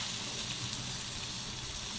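Double smash burgers sizzle loudly on a Kamado Joe Karbon Steel griddle, a dense, steady hiss and crackle of fat spitting up close for a couple of seconds with no talk.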